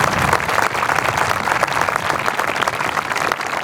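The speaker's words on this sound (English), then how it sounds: "would you please give them a round of applause?" Audience applause at a school band concert, a loud, dense and sustained burst of clapping that stays steady throughout.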